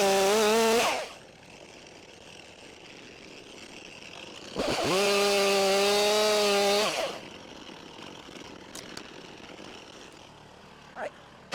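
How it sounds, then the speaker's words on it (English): A chainsaw cutting chunks out of a tree revs hard in two long bursts separated by a quieter idle, loud and close, with a few small clicks near the end. "So I'm going to cut chunks out of it and it should drop."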